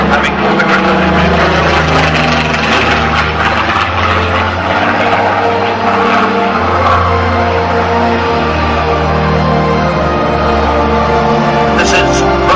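A historic aircraft with a Griffon piston engine flies past at an air show, a loud, steady droning roar with a throbbing propeller note that holds throughout, with crowd and field noise beneath it.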